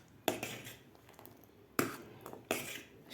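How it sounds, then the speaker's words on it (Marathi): A spoon stirs boiling pea kadhi in a pot, giving three sharp metallic clinks against the pot over a soft, faint bubbling background. "एकसारखं हलवायचं आहे आपल्याला."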